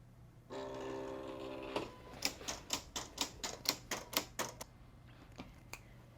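Electronic vinyl cutting machine working on Siser EasyWeed heat transfer vinyl: a steady motor whine, then a rapid series of rhythmic mechanical clacks and ticks as the carriage moves, close and moderately loud.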